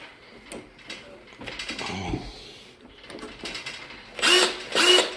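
Makita and Hilti drywall screw guns spinning up and winding down in short bursts, with whirring motor runs rising and falling and two loud sharp high-pitched whines near the end, close and alone.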